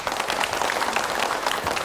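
Audience at a public debate for regency head and deputy candidates in Kulon Progo gives a short burst of steady applause, a dense even patter of many hands close by with no clear talk over it.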